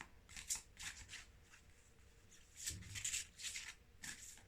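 An Isis oracle card deck being shuffled close up, with several quiet bursts of riffling and flicking separated by short pauses.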